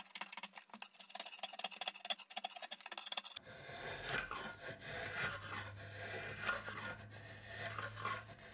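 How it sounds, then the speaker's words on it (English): Rasp rounding the sharp edges of a Pacific yew self bow, a rapid series of close scraping strokes at first, then a denser, rougher rubbing rasp. "Now I'm just going to take my rasp and round off all the sharp edges."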